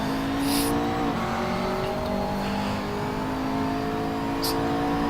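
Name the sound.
race car engines in video game Assetto Corsa, McLaren 650S GT3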